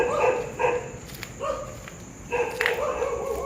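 Several dogs bark in short bursts around an abandoned roadside canteen beside a highway, the barks coming in clusters with gaps between them at moderate distance.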